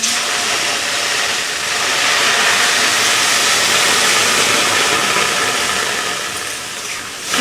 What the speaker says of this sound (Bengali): এবার আমি ডালের মধ্যে দিয়ে দেব জল।